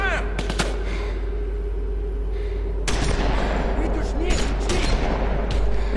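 Shotgun blasts in The Walking Dead video game, a few sharp reports early and a louder cluster of gunfire later, over a constant low hum with voices in the mix.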